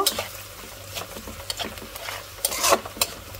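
Malabar spinach curry being stirred and fried in a pan, with repeated spoon scrapes and soft clatter over a light sizzle in a quick irregular rhythm, no one talking.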